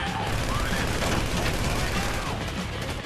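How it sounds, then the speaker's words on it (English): Dense, continuous gunfire in a Grand Theft Auto 5 bank robbery, with rapid overlapping shots and booms, loud and close, with faint voices mixed in. "You hear that gunfire?"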